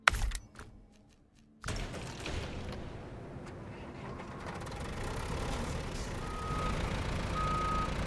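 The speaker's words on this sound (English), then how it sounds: "I need my medium log truck." A medium log truck in Snowrunner backs up with steady electronic reversing beeps over a rumbling engine, following a sharp clunk and brief quiet, with no talk.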